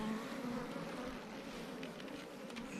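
Honey bees drone steadily around an opened hive in winter, a close, continuous buzzing hum with a few louder passes of individual bees near the end.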